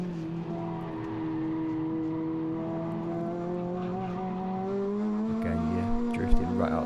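Renault Clio RS 200 engine on a track at Three Sisters circuit, revving steadily near the limiter with a rising sustained tone, then brief rougher bursts and tire noise as it brakes into a corner, with talk over it.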